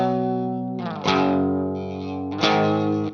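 An electric guitar plays dry without a pitch shifter pedal, with a few sustained distorted chords struck one after another, ringing out near and clear with slight chorus and reverb.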